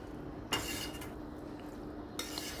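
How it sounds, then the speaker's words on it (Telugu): A spoon scrapes and clanks in a pot as marinated soya chunks and capsicum are mixed into a masala curry, with two sharp metallic knocks over a low background hiss. "ఇప్పుడు ఆల్రెడీ మనం మ్యారినేట్ చేసుకున్న ఈ మిల్ మేకర్ అండ్ క్యాప్సికమ్ వేసేద్దాం ఇంట్లో వేసేసి కలుపుకుందాం"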